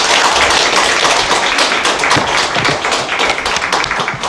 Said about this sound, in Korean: 우리 다시 한번 좀 우리 주님 앞에 영광의 박수를 돌려서 했으면 좋겠습니다.